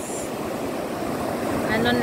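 Strong sea waves surge and wash steadily at a beach in late afternoon, a broad continuous roar mixed with wind, fairly close and loud throughout.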